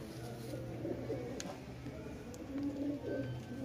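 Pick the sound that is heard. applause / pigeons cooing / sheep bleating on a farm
pigeons cooing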